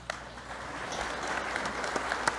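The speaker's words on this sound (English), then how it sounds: "spontaneous round of applause" A seated audience breaks into a round of applause after a talk at a research event, steady dense clapping across the whole stretch with a few sharper claps near the end, at moderate distance.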